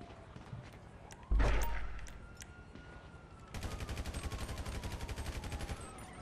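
Gunfire in the GTA 5 video game: one loud blast, then after a pause a rapid, even burst of automatic shots rattling for several seconds, with faint background game sounds.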